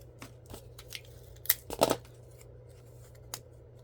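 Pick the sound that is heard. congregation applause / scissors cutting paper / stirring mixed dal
scissors cutting paper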